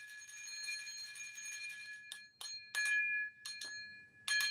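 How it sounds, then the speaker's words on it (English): A handbell rung several times, each clear metallic ring sustaining with bright overtones, the strokes coming in an irregular series and fairly close, with no talking. "I'm going to ring the bell to start."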